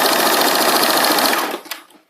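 A sewing machine stitches in a fast, steady mechanical whir, then slows and stops near the end; no talking.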